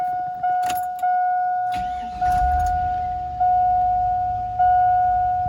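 An old, oil-burning car in poor shape that runs rough and sometimes stalls: keys rattle and a warning chime pulses before the engine cranks, catches and settles into a low, rumbling idle under the repeating tone.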